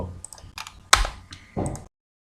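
Typing on a computer keyboard while entering dimensions in AutoCAD: a short burst of close, quick key clicks with one sharper keystroke near the middle.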